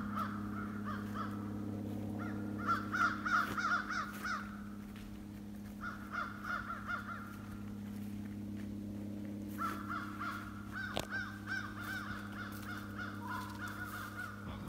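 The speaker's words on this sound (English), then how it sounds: "And the crows are sounding off about something." Several crows caw in bursts from a distance in a thick wooded area, the calls coming in clusters over a steady low hum.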